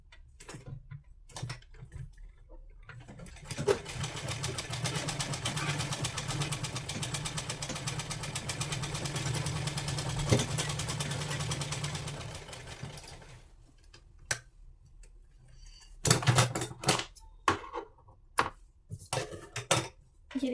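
A sewing machine stitching a salwar belt, running in one steady close mechanical whir for about ten seconds, framed by handling clicks and taps of the fabric before and after.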